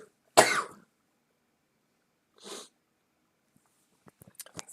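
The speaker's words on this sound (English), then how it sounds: "Excuse me 1 second, I'm going to sneeze." A single loud, close sneeze bursts out, followed after a pause by a softer sniff or exhale and then a few faint clicks and rustles in an otherwise quiet room.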